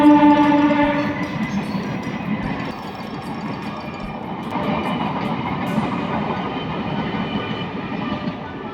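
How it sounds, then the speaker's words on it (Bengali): A train rumbles past close by in a steady, loud roar with rattling wheel noise and faint high tonal squeals, continuing without pause across the whole stretch. "ইন্ডিয়ার সব থেকে বড় বুলেট ট্রেন যাচ্ছে।"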